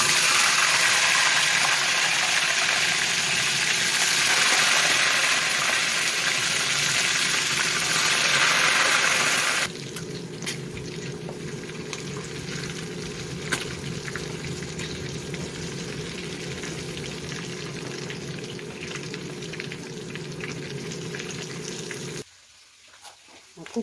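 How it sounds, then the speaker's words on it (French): Pieces of beef for boeuf bourguignon sizzle in hot oil with a steady, loud frying hiss that later drops to a quieter, continuous crackle before cutting off near the end. "On utilise la même huile pour faire notre viande."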